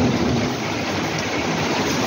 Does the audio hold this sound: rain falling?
yes